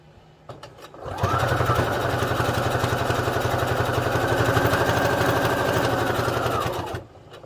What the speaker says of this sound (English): So we're just going to sew up 3 sides.